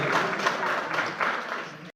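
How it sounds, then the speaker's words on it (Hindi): Audience applause at a Mother Mary social service honour award ceremony, a steady two-second burst of clapping from a crowd that fades out at the end. "सभी से मेरा अनुरोध है कि एक बार ताली बजाकर धन्यवाद करेंगे, उनका स्वागत करेंगे।"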